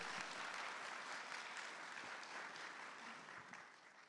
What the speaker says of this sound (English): Let's give Claire another big round of applause for lighting up the stage.